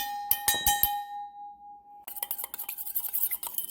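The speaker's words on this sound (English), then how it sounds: "I'm going to go ahead and make sure I got all that mustard off of there" A metal spoon clinks and scrapes mustard into a glass mason jar of salad dressing, a few ringing taps first, then a quick burst of rapid scraping clatter close by.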